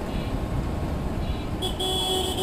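A vehicle horn toots out on a busy road in Krishnanagar, a bright tone cutting in near the end over steady traffic rumble.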